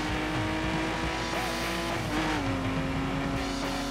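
An off-road car driving in The Crew racing game, a loud steady engine drone with shifting pitch and tire noise, continuous throughout with no talk.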